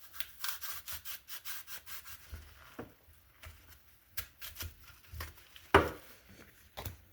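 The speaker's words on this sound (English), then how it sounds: "It's got jagged edges, so it's not really too sharp, but it cuts really good." A serrated knife saws through food with a string of short, quiet rasping strokes in an even rhythm, followed by scattered, sparser scrapes and one sharper knock.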